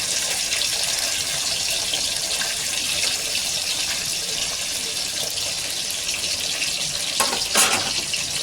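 Fish fry in hot oil with a steady, loud sizzling hiss and fine spattering crackle that runs throughout, with a brief burst of sharper popping near the end.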